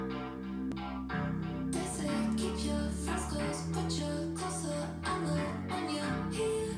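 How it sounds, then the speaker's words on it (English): A track plays, an 80s-flavoured synth chord progression with strummed guitar layered over a steady beat, full and continuous with no voices over it. "This almost has a sort of 80s vibe to it so far with that synth progression and also those guitar strums."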